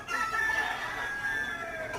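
A rooster crows in one sustained call lasting about two seconds, steady and fairly close, with soft clucking from the fowl alongside it and no voices.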